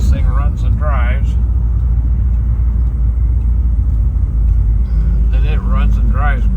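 A yellow 1965 Ford Thunderbird convertible cruises down the interstate with a steady low road and engine rumble throughout. Someone talks over the drone near the start and end.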